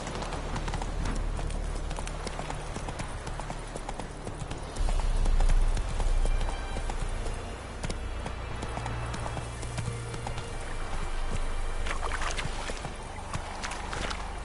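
Roach the horse gallops in The Witcher 3, a steady rhythmic clip-clop of hooves running continuously over a low rumbling game soundscape, loud and close throughout.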